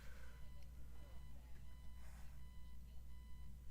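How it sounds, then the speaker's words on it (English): Faint repeated electronic beeping, like a reversing alarm, sounds at a steady rhythm over a low hum and background noise, with some distant voices. "Oh, there's a beeping sound too?"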